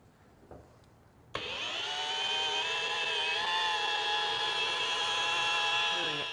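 A car polisher with a detail pad and compound starts up with a sharp click, then runs as a steady, loud, high-pitched motor whine that holds level for several seconds, alone with no talk.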